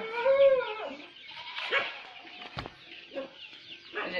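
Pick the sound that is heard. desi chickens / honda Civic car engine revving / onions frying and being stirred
desi chickens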